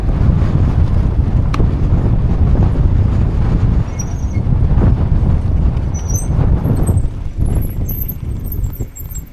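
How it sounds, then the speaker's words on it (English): Heavy wind buffeting a cheap action-camera microphone while cycling the coastal Pier to Pier Way path from Weston-super-Mare to Clevedon, a loud continuous low roar with gusting surges and no talk. "Oh, the wind."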